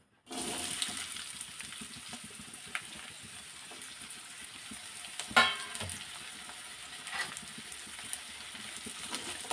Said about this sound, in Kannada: ಎಣ್ಣೆ ಮೇಲೆ ಈರುಳ್ಳಿ ಹಾಕೋತಾ ಇದ್ದೀನಿ